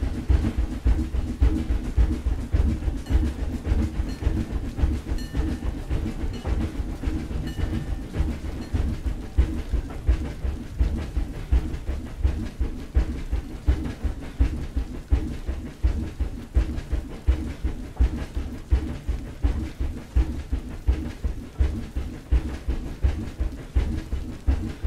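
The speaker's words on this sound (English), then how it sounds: "To like increase the speed of this train." A train running through a tunnel rumbles steadily with a rapid, regular clatter of wheels, loud and enclosed, continuing without pause for the whole stretch.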